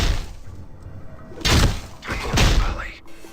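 Bomb attack in the Planescape Torment video game: two heavy, loud crashing thumps about a second apart, each with a breaking, shattering burst, over low background game sound.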